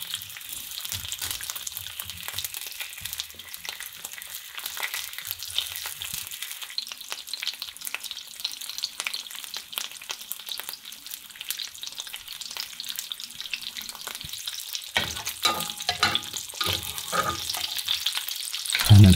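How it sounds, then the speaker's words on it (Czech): Sausage frying in lard in a small pan on a stove set to about 80 percent power, a steady crackling sizzle that runs throughout, with occasional stirring clatter near the end and no talking. "Na sádle osmahnu klobásu"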